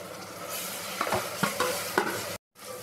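Ginger garlic paste and onions sizzle steadily in a pan for mutton sutriyan, with a spoon scraping and stirring in a few distinct strokes. The sound cuts out briefly near the end, then the frying resumes.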